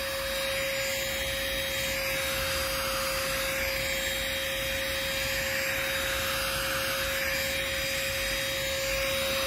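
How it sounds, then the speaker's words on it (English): A small handheld car detailing vacuum cleaner from Chuboor drones steadily and loudly throughout with a fixed whine, drawing cat fur off a cat-scratched chair, with no talking. "I was really surprised by how strong this vacuum cleaner actually is."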